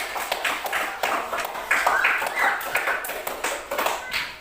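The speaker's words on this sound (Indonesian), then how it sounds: "Tepuk tangan untuk semuanya." A fourth-grade classroom breaks into scattered applause for the students, with rapid claps and taps rising and falling in bursts across the room, close and moderately loud.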